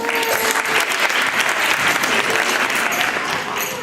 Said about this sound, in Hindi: वाह वाह, ऊर्जा के लिए जोरदार तालियां।